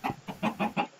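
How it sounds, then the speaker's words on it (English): Chickens in a Roblox game cluck in four quick, evenly spaced bursts, clear and close with no talk over them. "Oh, I got chickens."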